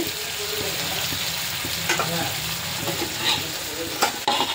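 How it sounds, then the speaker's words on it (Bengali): A spatula stirs and breaks up koi fish frying in masala with green chillies, giving a loud, continuous sizzle and repeated scraping strokes close by. "খুন্তি দিয়ে ফাটিয়ে দিয়ে দিই। অনেকটাই কষে আসছে"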